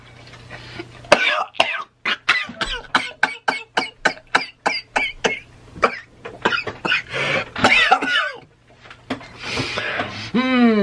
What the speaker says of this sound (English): He coughed on that chicken wing like it stuck a finger down his throat.